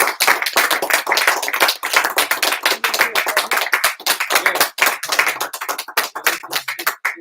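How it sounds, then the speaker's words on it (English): A small group claps by hand, producing sharp, uneven, fairly close claps in a loose irregular rhythm without a steady beat, with no talking over them. "Hand claps, man."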